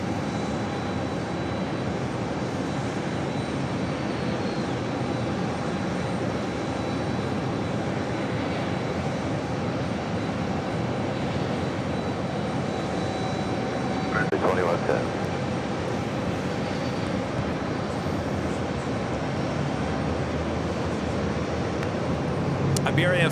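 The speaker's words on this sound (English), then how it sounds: "Connection, Flight 4973, heading to Richmond, Virginia. It's a CRJ 900LR. Now pushing back from the gates." A Delta Connection CRJ 900LR regional jet pushes back from a gate at JFK, a steady, moderately distant engine hum and airport rumble continuing throughout.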